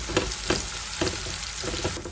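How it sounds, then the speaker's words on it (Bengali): Garlic frying in oil in a pan for red amaranth greens, a loud continuous close sizzle with a few soft stirring scrapes and no talk. "দিয়ে দিলাম তেল। লাল শাক রান্নার জন্য দিয়ে দিলাম রসুন।"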